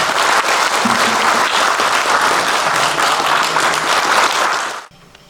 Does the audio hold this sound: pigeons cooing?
no